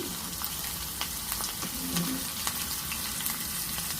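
Cumin seeds, mustard seeds, plenty of curry leaves and green chillies crackle and sizzle in hot tempering oil for dahi tadka, a dense close frying hiss with scattered pops and light stirring.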